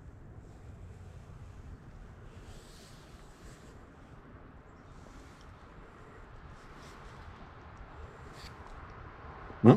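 A small outdoor stream flows steadily in cold weather near freezing, a soft continuous wash close by with light wind noise and a brief bump at the end.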